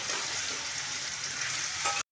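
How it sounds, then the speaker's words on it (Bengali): Pointed gourd (potol) frying in hot oil in a wok, giving a steady, close, even sizzle throughout that stops abruptly at the end. "দই পটলের জন্য প্রথমে পটলগুলোকে লাল লাল করে ভেজে নেব"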